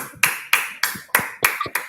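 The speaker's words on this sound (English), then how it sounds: "Let's give him a round of applause." A round of applause at a summit, heard as six sharp, evenly spaced claps in a slow steady rhythm, crisp and close with short decays between them.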